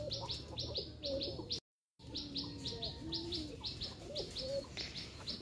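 A pair of domestic pigeons call close by in a rural yard, soft cooing mixed with repeated sharp chirps from other birds, with a brief gap of silence partway through.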